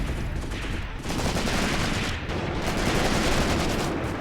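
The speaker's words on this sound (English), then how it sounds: "Fire, Babichev. That gun's not just for show." Dense gunfire crackles through a World War II battle in the tactics video game Graviteam Tactics: Mius-Front, with loud, continuous bursts of machine-gun and rifle fire layered over a deep rumble, barely easing at brief moments.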